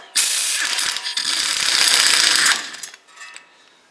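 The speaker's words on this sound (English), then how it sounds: "then we're going to undo the wheel bearing bolts and try to gingerly get it off" A ratchet loosens the wheel bearing bolts on a Chrysler 200 front hub, a loud, fast clicking burst lasting a couple of seconds, followed by a few slower, fainter clicks.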